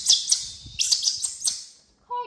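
A bird chirps in a series of bright, sharp calls, two quick chirps followed by a faster run of several more, fairly close, ending with a brief tonal sound.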